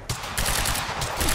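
Rapid automatic gunfire in the game Quantum Break, a sharp onset followed by a sustained rattling burst of close shots.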